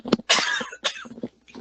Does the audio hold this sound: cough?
yes